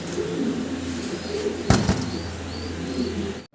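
Soft, low cooing of fancy helmet pigeons murmurs against a steady background hum, with a brief burst of flapping or rustling midway.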